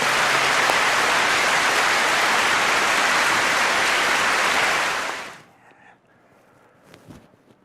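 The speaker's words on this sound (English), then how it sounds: "So let's give a round of applause." Loud, sustained applause from a crowd for about five seconds, then it cuts off abruptly, leaving faint room noise and a brief murmur.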